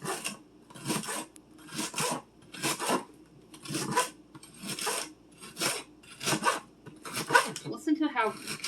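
Knife slicing fresh celery into quarter-inch pieces on a cutting board, a series of about nine crisp crunchy cuts in a steady rhythm, close and clear.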